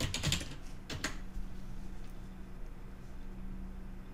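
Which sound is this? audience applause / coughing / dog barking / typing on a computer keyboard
typing on a computer keyboard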